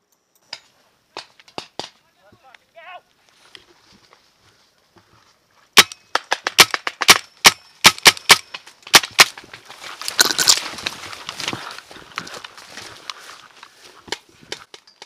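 Paintball marker shots fired during a milsim game with a T15 marker, sharp close pops, first a few spaced shots and then a rapid string of many, with scattered rustling between them.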